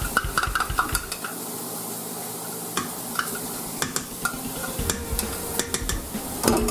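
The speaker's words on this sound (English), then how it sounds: "I got a spoon. I can spoon it out right here." A spoon scrapes and clinks against a jar as contents are scooped out for potato salad, making a series of close, irregular taps and scrapes over a low background.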